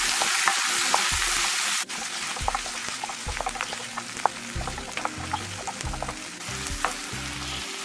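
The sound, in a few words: tomatoes added to sautéed onions frying in a pan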